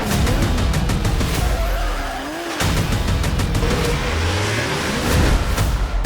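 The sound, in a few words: Toyota drift cars at Formula Drift Seattle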